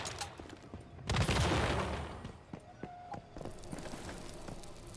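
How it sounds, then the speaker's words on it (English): Gunfire during a heist mission in a shooter video game: a loud burst of rapid shots followed by scattered sharper cracks and impacts, alone with no voices. "I'm enjoying shooting things too much."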